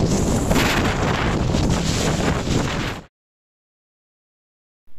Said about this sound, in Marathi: वाऱ्याचा जोरही आता वाढत चालला होता